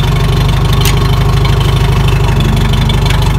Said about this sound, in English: So let me just start it up and you can hear it.